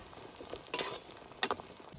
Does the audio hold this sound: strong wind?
no